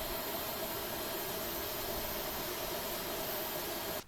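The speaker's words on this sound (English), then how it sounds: "the APU is so loud, you can hardly even hear the engine start up" A simulated auxiliary power unit drones steadily on a British Airways Airbus A318 in the Prepar3D flight simulator, a loud, broadband roaring hiss with a faint high whine that runs unbroken and then cuts off abruptly at the end.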